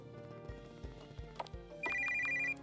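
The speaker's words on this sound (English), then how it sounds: "Oh, that's my phone. What kind of old-timey ringtone was that?" An old-timey telephone bell ringtone rings in a video game, a bright trilling ring starting partway through after several dull clip-clop thuds.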